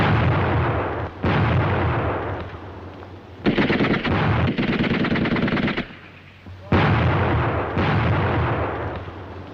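Grenade blasts and gunfire ring out as a German squad attacks a defended position in WW2, with loud, dense bursts of firing and explosions that come in several waves, briefly easing in between.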